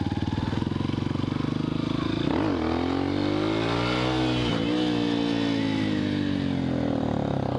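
A Suzuki GSX-R motorcycle revs hard for a wheelie in a shopping center parking lot, its loud, close engine climbing and falling through several rising pitch sweeps without a break.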